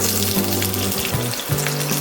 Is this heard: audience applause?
no